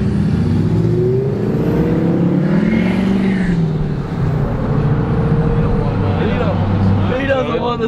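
Tuned, straight-piped Power Stroke diesel truck revving nearby, a loud continuous low rumble that rises and falls throughout, with people talking over it.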